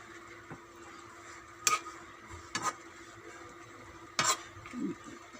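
Kangkong and sardines stirred in a pan, with a faint background sizzle broken by three or four sharp scraping clicks of the utensil, close by.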